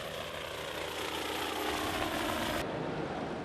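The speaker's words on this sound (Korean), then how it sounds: "갑자기 꾸따 해변에 헬리콥터가 떴습니다." Helicopter flying over Kuta beach in Bali: a steady, broadband rotor and engine roar that holds at a constant level throughout, with no voices.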